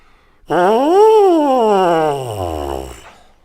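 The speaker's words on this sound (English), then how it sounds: "It has a cup-shaped mouthpiece, and it sounds like this." A single buzzy, reedy tone slides up in pitch, then falls slowly and trails off into a low growl, a lip buzz through a cup-shaped trombone mouthpiece alone.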